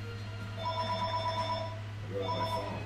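A telephone rings in two trilling bursts of electronic bell tones, separated by a short gap, over a steady low hum.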